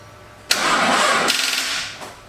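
A forged Nissan RB25DET engine cranking over on jumper leads with a weak battery, a loud starter whir that begins abruptly and churns steadily for under two seconds before fading out, heard up close.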